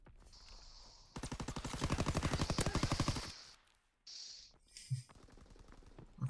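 Rapid automatic gunfire from a Call of Duty WW2 match, a sustained burst of close, loud shots for about two seconds, then scattered single reports and game effects.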